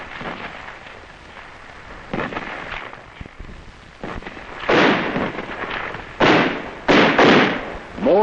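Gunfire and mortar blasts in a Vietnam ambush, heard as a run of sharp loud bursts and heavy thumps that grow denser and louder toward the end.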